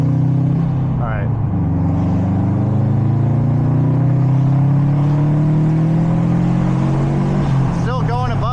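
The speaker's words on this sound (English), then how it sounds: "We'll do a 3rd gear pull." A 2015 Subaru STI pulls hard through third gear, its engine drone rising steadily in pitch over several seconds before easing off, heard from inside the cabin with voices briefly at the end.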